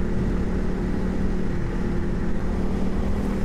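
A Honda CRF300L motorcycle cruises at speed in top gear, its engine drone blending with a loud, constant rush of wind and road noise throughout.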